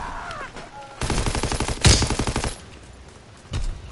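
Machine gun fire in a WW2 video game comes in rapid, evenly spaced bursts, loud and close. One sharper blast cuts through the middle, and a single shot follows after a pause.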